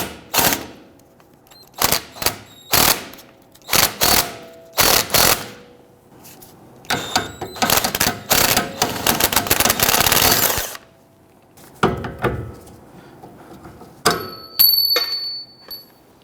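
A ratchet with a swivel socket loosens a bolt on a 2010-2019 Ford Taurus during rear CV axle work, giving loud close bursts of rapid clicking separated by pauses, then a longer sustained run of ratcheting.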